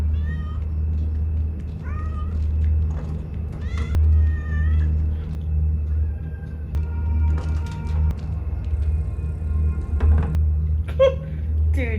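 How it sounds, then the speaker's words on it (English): A cat meows several times in a Fear the Walking Dead episode, short mewing calls scattered over a low steady rumble, with faint voices in the background. "The cat's gonna say something."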